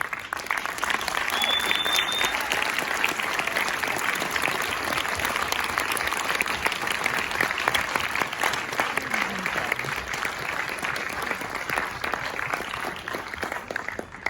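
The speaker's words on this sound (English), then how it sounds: "Please applaud for the director again, Mathias Mariani." Film festival audience at the Berlin Festival 2020 applauding the director after a screening, loud, dense and sustained clapping from a large crowd that fills the room steadily, with a faint voice briefly audible beneath it.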